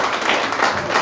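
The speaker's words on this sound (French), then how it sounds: "Let us clap for Jesus." A church audience claps for Jesus at a gathering, a dense, even patter of many hands filling the whole brief moment at close range.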